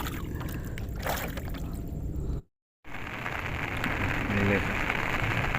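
Steady rain patters on a surface during a storm while traditional fishing, broken by a brief moment of silence midway, with faint voices in the background.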